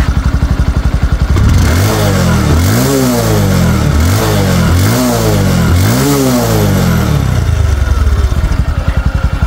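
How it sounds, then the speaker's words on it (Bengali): A 2022 Bajaj Discover 125 motorcycle engine idles close by, then revs up repeatedly in loud rising and falling bursts before settling back to a steady idle, with no talking. "দেখাবো বাইকটা স্টার্ট করে"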